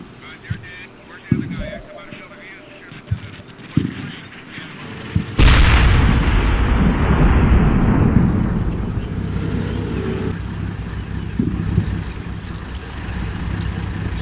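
Gunfire from a squad suppressing enemy troops in the war game Combat Mission: Shock Force: a few sharp isolated shots, then a loud sustained roar of heavy fire and booms that trails off slowly, with speech at times.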